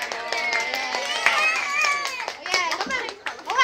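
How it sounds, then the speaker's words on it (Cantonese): Children clap for a young group at a kids' singing session, a scattered patter of hands under an adult's loud, lively talking and children's voices, close and continuous. "小朋友，我哋俾啲掌聲佢哋先啦"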